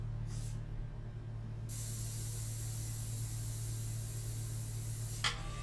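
An airbrush sprays a dark India ink mixture with a steady close hiss over a low hum. The spray stops briefly near the start, then runs continuously with a short burst near the end.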